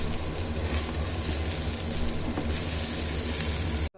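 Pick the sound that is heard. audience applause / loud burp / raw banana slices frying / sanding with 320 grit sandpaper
raw banana slices frying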